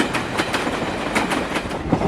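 A moving train rolls steadily along the track with a rhythmic clickety-clack of wheels over rail joints, loud and close, with no voices.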